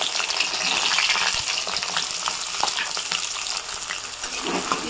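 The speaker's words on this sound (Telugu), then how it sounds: "ఇవి గరమైంది, ఉల్లిగడ్డలు వేసుకుంటున్నా." Sliced onions dropped into hot cooking oil for a chicken liver fry give a steady, close sizzle and crackle that holds for several seconds without talk.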